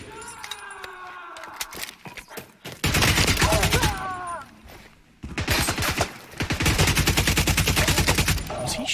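Gunfire in The Division 2, two sustained bursts of rapid automatic fire, loud and close, separated by a brief lull, with a voice talking over the gaps.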